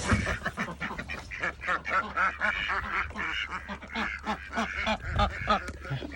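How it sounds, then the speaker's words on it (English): A flock of homestead ducks quack continuously and loudly close by, overlapping calls packed densely in a busy, chattering chorus. "Oh, good morning, ducks."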